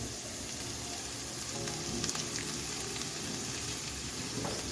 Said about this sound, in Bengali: বেগুনটা উচ্ছের সাথে ভালো করে মিশিয়ে এক মিনিটের মতো ভেজে নিচ্ছি